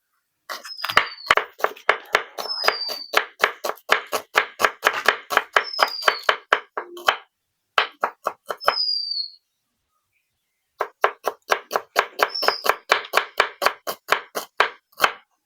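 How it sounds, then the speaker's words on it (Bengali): Knife chopping onions on a board in a village kitchen, preparing broken-rice dishes: rapid, steady rows of sharp close taps. Short pauses near 7 and 9.5 seconds and a longer gap from about 10 to 11 seconds, with brief squeaky chirps now and then. "তার জন্য আমি পেঁয়াজগুলোকে কুচিয়ে নিচ্ছি"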